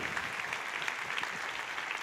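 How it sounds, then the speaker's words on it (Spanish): Steady applause from a church congregation, a dense continuous patter of clapping heard at moderate distance without pauses. "Dale más fuerte ese aplauso al Rey, por favor."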